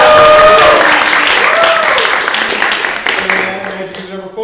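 A comedy improv audience bursts into loud applause and whoops when cheering for a contestant, starting strong and gradually tapering off as a voice speaks over the end.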